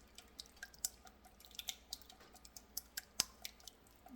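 Eggs beaten by hand in a bowl with a utensil for a snack bar batter, giving quiet, irregular wet clicks and taps that come in quick, uneven bursts.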